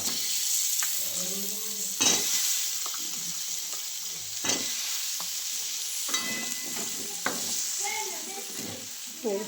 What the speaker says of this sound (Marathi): मस्त अशी काळ्या तिखटाची फोडणी देऊन घेतली. आता त्याच्यामध्ये बटाटा टाकून घेते.